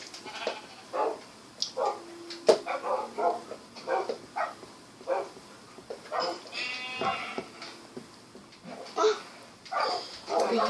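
Puppies yelp and whimper close by in a run of short, high, bleating cries and whines with brief gaps between them.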